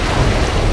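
Ocean waves in the BioShock video game: a steady, loud wash of surf and rushing water filling the short moment with no break, with no speech over it.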